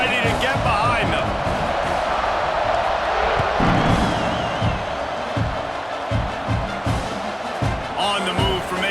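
Stadium crowd at a College Football 26 kickoff, a steady roaring crowd bed with thumping hits, under an announcer talking throughout.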